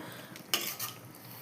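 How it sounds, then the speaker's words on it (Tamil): A lid is set onto a pot of chicken gravy with one sharp metallic clink up close, followed by a short rattle over a faint kitchen background. "இப்போ நான் இதை வந்து மூடி வச்சு வேக வைக்க போகிறேன்"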